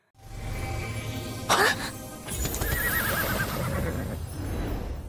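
A horse gives a loud whinny, with a sharp rising cry and then a longer wavering neigh over a steady low background rumble.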